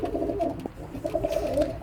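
Soft, rolling pigeon coos repeat close by over about two seconds, low and throaty with a steady murmur.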